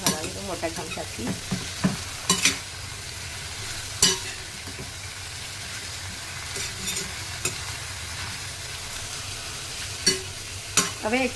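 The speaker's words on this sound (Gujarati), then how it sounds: "હલાવી દો મોટા ચમચાથી" Spiny gourd pieces sizzle in a pan while a large spoon stirs them, sharp scraping clacks scattered over a soft continuous frying hiss.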